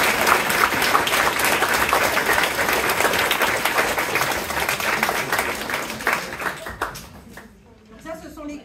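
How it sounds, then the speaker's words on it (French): Sustained audience applause at the inauguration of a new nursery and canteen in Isola 2000, a steady, loud wash of many hands clapping that fades and dies away toward the end. "on peut les applaudir."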